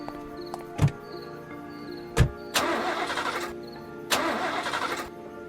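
A car engine in a dense forest cranks and fails to catch, with two sharp thunks followed by two rough bursts of turning-over noise that cut out, close and fairly loud with no talk.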